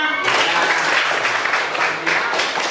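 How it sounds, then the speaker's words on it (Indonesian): Loud applause from a school class for a presenting student group, dense clapping starting abruptly and continuing steadily, close and bright, with a faint voice under it. "tepuk tangan untuk kelompok 6"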